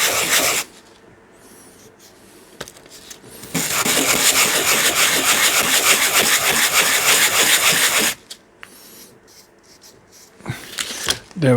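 Sandpaper rubbed on an MDF terrain piece, a long loud rasping scrub lasting several seconds between shorter scraping bursts and quieter handling gaps.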